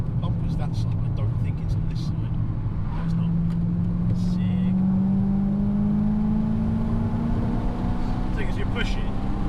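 BMW E92 M3 engine pulling under acceleration, a steady rising drone from inside the car, with people talking over it.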